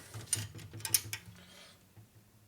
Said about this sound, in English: Now I'm going to go ahead and torque the bolts down all the way. So I use my torque wrench here.